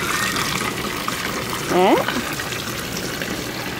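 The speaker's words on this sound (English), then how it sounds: "Okay, water goes down the drain." Water flows steadily in a children's museum water play area in Fort Worth, a continuous close rushing wash with a brief spoken word and a short tonal voice sound partway through.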